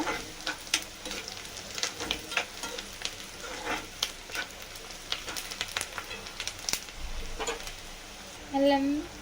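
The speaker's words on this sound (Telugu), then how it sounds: "కలుపుకుంటున్నాను ఉల్లిగడ్డ." Onion frying in a pan while being stirred, with repeated clicking spoon scrapes over a steady crackling sizzle, close by. A brief voice is heard near the end.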